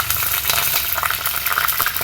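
Curry leaves hit hot oil in a pan and fry with a loud, dense, continuous sizzle and crackle, close up, with no voices.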